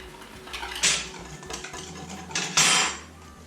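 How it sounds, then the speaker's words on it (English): Salt and turmeric are whisked together in a bowl for khandvi, giving rapid metallic scraping and clinking in uneven bursts, with two louder, busier flurries standing out close up over a steady low hum. "Half a teaspoon of salt, a 1/4 teaspoon of turmeric, and you whisk it together."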